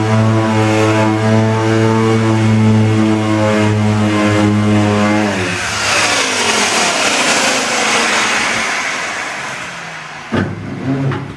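A power sander works back through several layers of paint on a Ford XC Fairmont 351 under restoration. Its loud, close motor whines steadily, then drops in pitch into a rougher grinding rasp as it bears on the panel.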